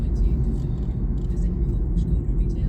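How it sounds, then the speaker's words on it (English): Steady low rumble of cars on a busy road with diverted traffic, heard from inside a moving car as a continuous near drone with faint talk mixed in. "a lot of cars down here"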